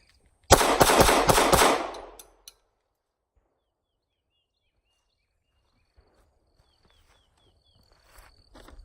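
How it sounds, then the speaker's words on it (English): Five rapid shots from a Glock 48 pistol crack out close and loud in a tight string lasting under two seconds, followed by near silence with faint distant chirps. "Now I'm going to rip off 5 fast because I want to see how controllable this Glock 48 is."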